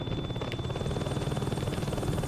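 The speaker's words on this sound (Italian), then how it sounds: "Ho capito che è stato un elicottero" A helicopter in the video game Saints Row 2 makes a steady, fairly faint rotor thrum with a rapid chopping pulse throughout, alone without speech.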